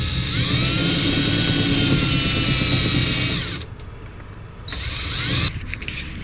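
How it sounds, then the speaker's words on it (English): A loud power drill whines steadily at close range, drilling through a van's double-walled area, then stops briefly and starts again in short bursts. "as long as you make sure that you're only drilling through double-walled areas and you're feeling the drill"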